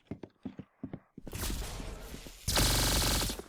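A laser rifle fires in the Arsenal video game, with a few sharp, spaced shots followed by dense bursts of rapid gunfire that build to a loud, sustained stretch.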